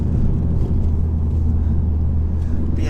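Steady, loud low engine drone from a 2016 Ford Focus ST-3 diesel while driving, a throaty rumble with road and cabin noise continuous throughout, no talking.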